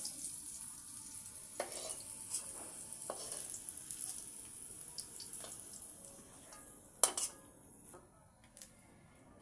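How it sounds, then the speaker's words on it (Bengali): Fried rice fries quietly in a wok, giving a faint, thin sizzle. Occasional metal spatula scrapes and clinks punctuate it, with one sharper knock late on. "এবার আমি রাইসটা ভাজবো"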